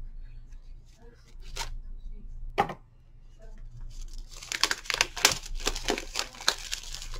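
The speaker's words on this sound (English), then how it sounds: "if you don't like the sound of packaging opening, just mute me" Packaging from an online shopping haul, including boxes with Chinese writing, is opened nearby: a few isolated crinkles and tears, then a denser burst of rustling and crumpling, with faint talk in the background.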